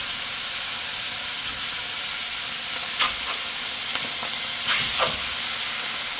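Chicken pieces fry in a very hot pan with a steady, loud sizzle and hiss, a few sharper crackles and spatters breaking through near the end.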